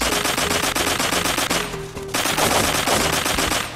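Rapid automatic MP7/XM8 fire in the blocky shooter Blockpost, a fast steady stream of loud close shots with only a brief gap, dense and continuous with no talk.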